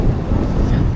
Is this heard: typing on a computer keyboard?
no